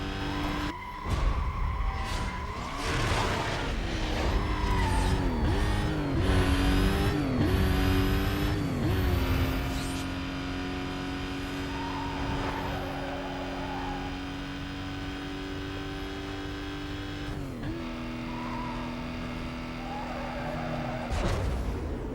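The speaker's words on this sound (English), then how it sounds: "Yeah, this is definitely the Vauxhall Monaro I hear here." A Vauxhall Monaro in the 2005 racing game Need for Speed: Most Wanted on PS2, its engine roaring and revving with gear changes and brief tire squeals, then settling into a steady high drone, loud and upfront.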